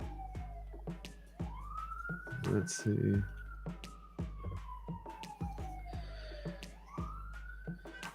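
An ambulance or fire truck siren wails in rising and falling sweeps from nearby, looping steadily throughout while people talk over it.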